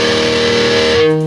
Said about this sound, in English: I can hear one guitar distorted going